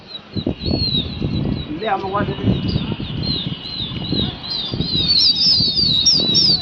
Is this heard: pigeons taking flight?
yes